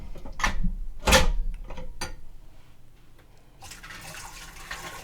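Hot water poured from glass jars back into a Nesco canner: a few splashing gushes and clinks early on, then a softer steady trickle, close by with no talking.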